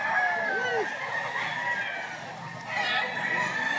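A fighting rooster at a gamecock market in Lipa, Batangas crows nearby, with a clear rising-and-falling call over background voices and the clucking of other fowl.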